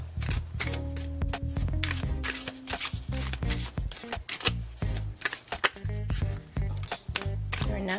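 A deck of tarot cards shuffled by hand, quick crisp riffles and snapping taps in a steady rapid series, close up over background music.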